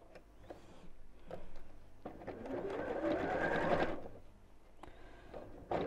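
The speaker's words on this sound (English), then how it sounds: "And sew straight down the side." Sewing machine stitching straight down the side seam of a small fabric pinwheel pin cushion, a steady close whirring run that swells in the middle, with short stops and starts at either end.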